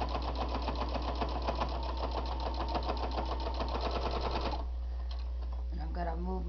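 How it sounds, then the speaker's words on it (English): A sewing machine stitches a half-inch seam on a fabric bowl cozy, running as a steady, rapid mechanical rattle with a constant motor hum for most of the time, then slowing and stopping near the end. "the bowl over here and start sewing it"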